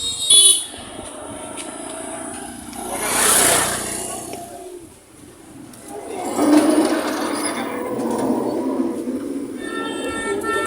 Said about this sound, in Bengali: সিএনজি এসতেছে